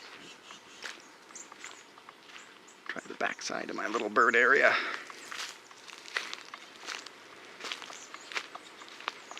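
Footsteps crunch along outdoors at a steady walking pace on a birding walk while a person talks over them, with a brief louder patch midway.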